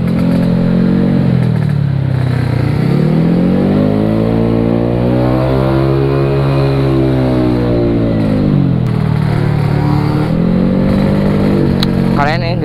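A Vespa scooter bored up to 165cc revs its engine in steady, droning rises and falls, close and loud for the whole stretch, ending in a brief clatter.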